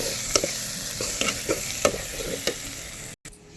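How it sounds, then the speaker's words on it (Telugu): Tomato and onion frying in a pan as turmeric is stirred in for a Telangana-style onion and egg curry, with a steady low sizzle and repeated scraping spoon strokes, then a brief dropout near the end. "ఇప్పుడు దీంట్లో పసుపు కూడా వేసుకొని మంచిగా కలపాలి"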